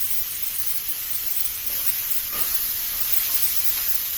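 Steak and onions sizzling steadily in a pan, a continuous even hiss at close range with no talk over it.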